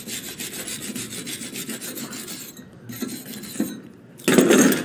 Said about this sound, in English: Once it's dried off, you can shine it up with a brush.